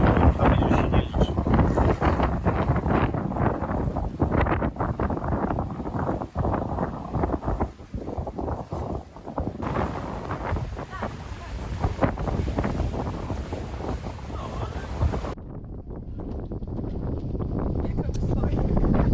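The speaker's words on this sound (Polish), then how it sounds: "Taki wiatr jest tak z 15 węzłów." Strong gusting wind of about 15 knots buffets the microphone in heavy roaring bursts aboard an anchored sailing yacht, with a moment of relative calm toward the end.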